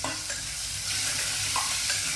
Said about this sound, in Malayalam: അതിലേക്ക് ഒരു രണ്ട് പച്ചമുളക് അരിഞ്ഞത് നാടൻ കരുവേപ്പിൻ്റെ ഇല രണ്ട് ചെറിയ തക്കാളി നീളത്തിൽ കട്ട് ഇതൊക്കെ ഇട്ടൊന്ന് നന്നായിട്ട് വഴറ്റിയെടുക്കാം